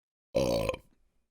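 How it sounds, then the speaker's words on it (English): A single loud human burp, a short voiced belch lasting about half a second and trailing off, close to the microphone with no talking. "Oh, secondhand burp."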